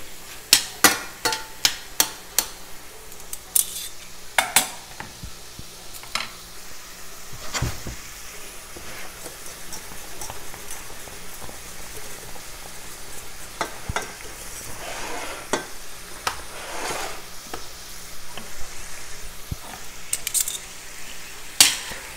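Shrimp for Cajun shrimp alfredo sizzling in a pan, a steady low hiss punctuated by repeated sharp clacks and taps of the stirring utensil against the pan, loudest in a cluster at the start.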